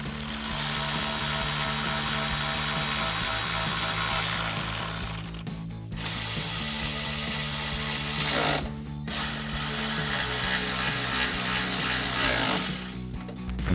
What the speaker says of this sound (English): And now we'll tighten them all down with our 10mm socket.